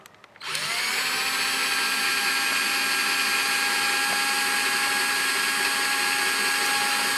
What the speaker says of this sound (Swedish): Tar vi och borrar ett litet hål